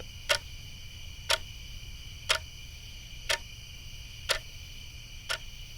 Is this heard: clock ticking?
yes